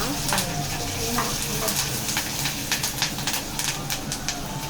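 Curry leaves, cumin and chana dal fry in hot oil with a lively, crackling sizzle, steady and close, dotted with sharp spits and pops.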